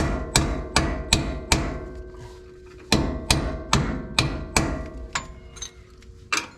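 A heavy hammer strikes repeatedly while a leaf spring is driven into place on a Squarebody truck during a 2-inch drop spring install, with about a dozen loud metallic blows in uneven bursts.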